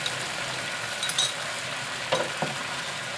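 Shrimp and mixed vegetables are gently stirred in a pan of thickening white sauce, giving a soft continuous sizzle with a few brief scraping strokes of the utensil, close up and without talk.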